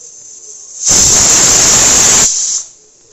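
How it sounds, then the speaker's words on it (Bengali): A pressure cooker boiling taro lets off a loud, close burst of hissing steam lasting about two seconds, with a thin whistle before and after the gush. "এই কচুগুলো সিদ্ধ করতে বসিয়ে দিলাম আমি প্রেসার কুকারে"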